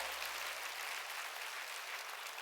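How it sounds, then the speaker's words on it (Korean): Broad, steady clapping from a church congregation at a Sunday service, a dense even wash of many hands that holds at one level throughout with no voices heard over it. "박수치라요."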